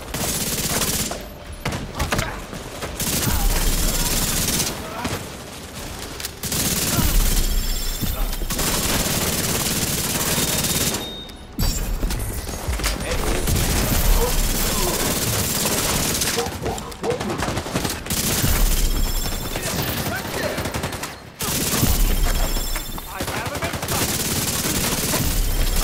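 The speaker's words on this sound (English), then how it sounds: "Returning fire!" Rapid video game gunfire from an agent's weapon, sustained bursts of automatic shots with brief pauses, loud and close amid a busy combat mix.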